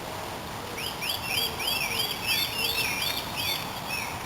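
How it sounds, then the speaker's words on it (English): Several small birds sing outdoors around a parked camper van, bright repeated chirps and whistled phrases overlapping at moderate distance over a quiet hiss of background ambience, with no voices. "with the birds singing."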